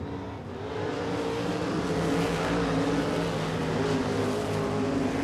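Sprint cars race through the corners at Tulsa Speedway in an A feature, a continuous loud roar of several engines swelling and holding steady, with no voices over it.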